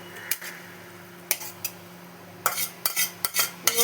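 A spoon scrapes and clinks against a pot while serving cooked mixed greens with lentil dumplings (bori), giving a few scattered metallic taps and scrapes close by with no talk.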